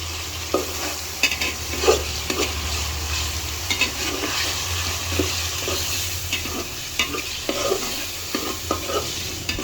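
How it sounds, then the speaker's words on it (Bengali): Masala paste of ginger and garlic fries steadily in oil for a chicken curry, a continuous close sizzle broken by repeated scraping stir strokes at an uneven rhythm, with no talking. "মশলাটাকে খুব সময় নিয়ে কষাতে হবে যেন মশলা থেকে যে একটা কাঁচা গন্ধ আছে সেটা চলে যায়"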